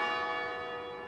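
Church bells ringing in a rich, sustained wash of overlapping tones, loud and resonant, fading slightly over about a second, no voices.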